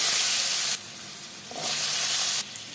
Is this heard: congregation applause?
no